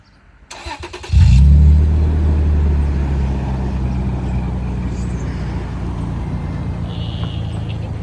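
A Toyota FJ Cruiser engine with a Flowmaster aftermarket exhaust cranks and catches with a sharp burst, then settles into a deep, loud, rumbling idle from the throaty exhaust.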